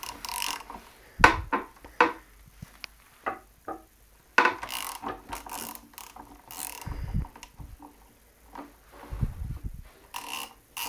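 Hand tools clicking and ratcheting while 10 mm screws are backed out of a Suzuki carburettor, a series of sharp close mechanical clicks and short bursts with brief pauses between them, no voices.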